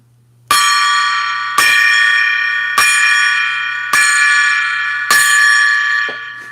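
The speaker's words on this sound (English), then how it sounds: "5 rings of the gong." A resonant metallic gong struck five times at an even pace, each stroke ringing out and sustaining until the next, loud and close.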